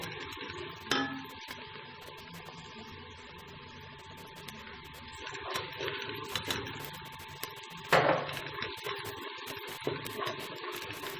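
Ingredients for Lahori beef paya, with garlic, roasting in a pot and being stirred, giving a soft steady sizzle with scattered scraping clinks of a spoon against the pot, including a louder scrape near the end.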